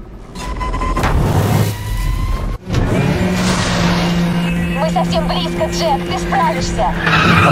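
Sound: race car accelerating with nitro, Need For Speed The Run video game

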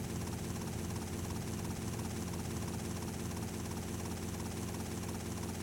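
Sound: helicopter lifting heavy load in GTA Vice City Stories video game

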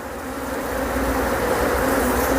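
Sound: native Korean honeybees buzzing at hive

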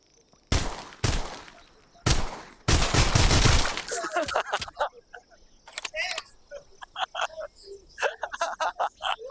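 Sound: gunfire in a mixed reality VR shooting game

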